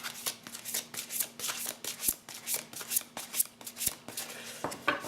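Tarot cards are shuffled in a steady series of soft riffling, slapping bursts, repeating roughly twice a second, close and fairly quiet, with no talking.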